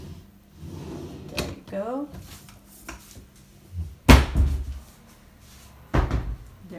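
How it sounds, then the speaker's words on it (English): A wardrobe drawer and door in a sunny two-bedroom rental apartment slide and bump open and shut: a soft scraping glide, then a sharp wooden knock and a later thud, with a person talking in between. "You also got just a drawer here."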